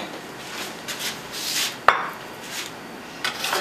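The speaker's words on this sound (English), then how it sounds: "I'm going to scoop this into a small bowl" Sprouted quinoa is scooped into a small bowl, with soft scraping, light rubbing and one sharp clink of utensil on dish near the middle, close and fairly quiet, with no talking.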